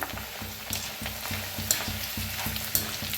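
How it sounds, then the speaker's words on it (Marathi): Corn chivda deep-fries in hot oil with a close, steady bubbling sizzle, punctuated by a few faint clinks. "आता तेल चांगलं गरम झालेलं आहे थोडं थोडं टाकून तळून घेऊया"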